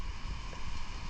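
Strong northeast monsoon wind over the sea off the Philippines, with rough waves, roars as a continuous dense rush with no breaks or voices.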